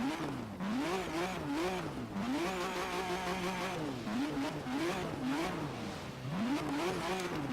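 A Radical RXC Turbo race build in Forza Horizon 3 revs hard, its engine pitch climbing and falling in repeated sharp bursts with buzzy harmonics, loud and continuous.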